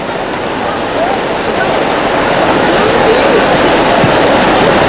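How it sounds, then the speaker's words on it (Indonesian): Heavy rain pours steadily and loudly outdoors during an Eid al-Fitr prayer gathering in Yuen Long, Hong Kong, a dense continuous hiss of water drumming on surfaces, with a faint voice underneath. "hujan yang begitu deras"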